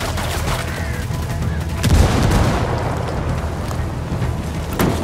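Frag grenade blast in Ghost Recon Wildlands, a loud booming explosion midway amid scattered gunfire and a later sharp crack.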